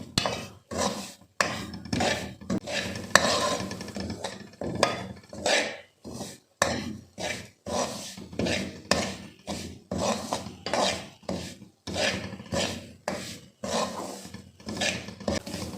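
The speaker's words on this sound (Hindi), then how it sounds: "5 मिनट तक इसे लगातार भूनना है।" Semolina (suji) is dry-roasted and stirred constantly in a pan for halwa, a spoon scraping back and forth in rhythmic, close rasping strokes with brief pauses between, no voices.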